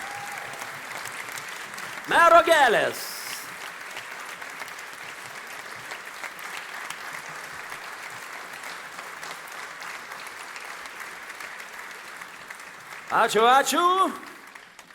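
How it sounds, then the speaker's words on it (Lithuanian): An audience at an award ceremony for the Klaipėda woman-of-the-year contest claps in two short bursts of applause, between which a host speaks over a quiet hall. "Jūsų aplodismentai."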